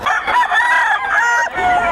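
A rooster crows loudly and close by at a fighting-cock market, a couple of drawn-out cock-a-doodle-doo calls with a brief pause between them.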